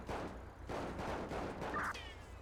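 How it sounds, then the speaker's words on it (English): Gunshots are fired inside a building in the video game GTA FiveM, heard as a faint, muffled burst of several rapid shots in a quick volley. "shots fired inside"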